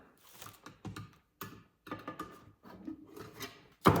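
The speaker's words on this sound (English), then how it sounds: "You want to take this Bondo, of course you want to go ahead and mix it up as best as you can." Bondo body filler being mixed with a spreader during rear quarter panel repair on a 1968 Corvette, heard as close scraping and rubbing strokes in short bursts with brief pauses, ending on a sharper knock.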